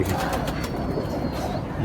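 A pigeon of an old Rajasthani breed with its eyes shut gives soft, low cooing while held in hand, close and steady, with someone talking over it throughout.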